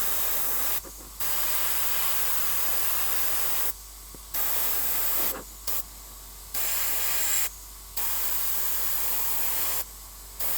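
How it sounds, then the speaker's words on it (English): Airbrush spraying paint onto a Warhammer miniature: a steady close hiss of compressed air in several long bursts, each lasting a second or more, broken by short pauses. "do the same stuff with the airbrush"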